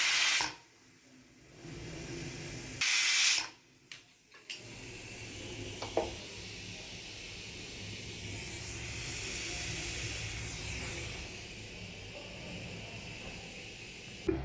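A few loud bursts of rushing steam at first, then a steady, moderately loud hiss from a pressure cooker that holds on without any whistle.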